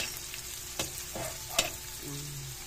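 Garlic frying in a pan, a low steady sizzle with occasional stirring knocks and scrapes, moderately close and fairly quiet.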